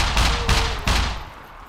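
Gunfire in the survival video game SCUM: three loud, close shots spaced roughly a third of a second apart, each with a short booming tail that fades into quiet afterward.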